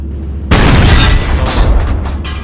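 A Leopard 2A6 tank cannon fires in Project Reality, a single loud, close boom that rolls on into a long, fading rumble with no voices over it.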